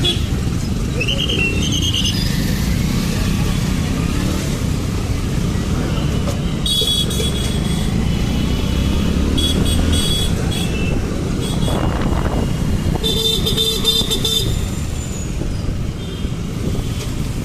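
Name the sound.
road traffic jam with car horns honking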